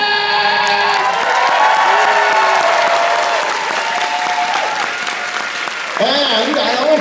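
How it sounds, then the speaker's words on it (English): A crowd at a furry convention dance competition claps and cheers as a contestant is introduced, lively applause running throughout beneath an amplified announcer's voice and a music cue. "can I get a warm round of applause for Kit Kat?"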